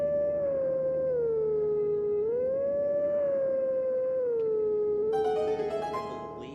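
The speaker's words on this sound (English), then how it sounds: "So we gotta howl some tunes." A wolf in the video game The Legend of Zelda: Twilight Princess howls a wavering, tuneful melody in one long continuous rise-and-fall, loud and near, with a brighter layered tone joining near the end and no talking.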